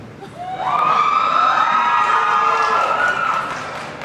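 Anime convention audience at a closing ceremony breaks into loud cheering and excited shouts, swelling quickly and holding for a few seconds before easing off.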